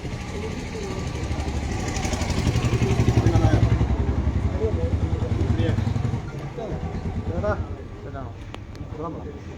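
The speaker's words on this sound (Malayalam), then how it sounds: "ബൈക്ക്" A motorbike engine rumbles and clatters close by outside the Devalokam Aramana in Kottayam, loud and steady, then eases off as it moves past. People talk faintly in the background.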